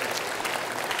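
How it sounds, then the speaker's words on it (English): A brief burst of dense clapping from a church congregation, steady and fairly faint, filling the whole moment. "Let's give him a round of applause just for who he is."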